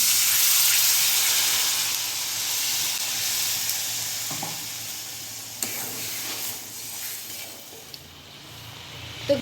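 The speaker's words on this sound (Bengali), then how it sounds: "সব কিছু খুব সুন্দর করে ভেজে নিয়েছি, এবারে জল দিয়ে দিচ্ছি" Water goes into fried fish roe masala in a pan, giving a loud steamy hiss that slowly eases into a softer bubbling sizzle, with a few clinks of a utensil along the way.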